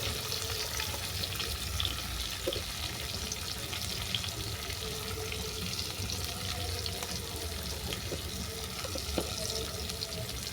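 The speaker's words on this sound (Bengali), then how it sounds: "এটাকে আমি বাদামি করে ভেজে নেব।" Potatoes with turmeric and salt fry in a pan until browned, giving a constant close crackling sizzle with occasional soft stirring knocks, unbroken by any voices.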